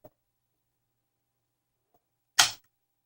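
A plastic lock mechanism popping up on a DX Genesis Driver toy belt after its button is pressed: one sharp, close click-snap in an otherwise quiet moment.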